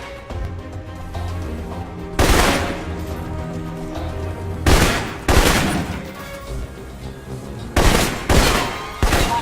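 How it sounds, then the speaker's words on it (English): Assault rifle fire in the video game Alpha Protocol: several loud, sharp bursts of shots in separate clusters, each a quick rattling volley, with quieter game ambience between them. "For long-range encounters, the assault rifle's the key."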